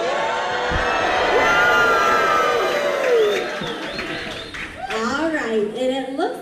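A crowd at a lumberjack show in Ketchikan, Alaska cheers, whoops and claps loudly before an event begins. The cheering is continuous, and excited individual shouts rise near the end.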